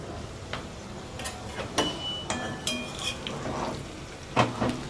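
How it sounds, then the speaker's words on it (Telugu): A spoon scrapes and clinks against a pan while chili garlic powder and salt are stirred into bitter gourd, giving irregular close taps and scraping strokes over a low kitchen background. "ఇలా ఈ మిశ్రమం అంతా కలిసిపోయేంత వరకు కలుపుకుందాము"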